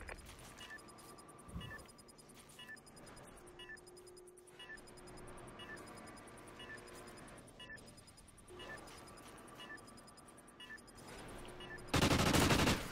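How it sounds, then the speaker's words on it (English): Rapid gunfire crackles through a gun battle in a bomb-defusal shooter video game, with bursts of shots over a steady game soundscape and a loud burst near the end. "Oh, that's how you lose a gun battle right there"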